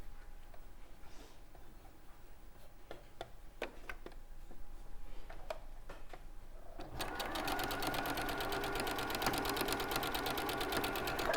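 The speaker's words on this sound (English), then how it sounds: "So I'm going to sew that one on." A sewing machine stitches a quilt block square. Room ambience with a few light ticks comes first, then the steady, rapid needle clatter starts at close range about two-thirds of the way through and runs to the end.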